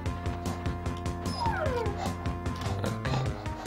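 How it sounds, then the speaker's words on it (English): Sled dogs in the racing game Dog Sled Saga yip, bark and whimper in quick, excited bursts, loud and close over a steady looping game soundtrack. "Look at Sapphire Zebra, she just barked and her skill just kicked in"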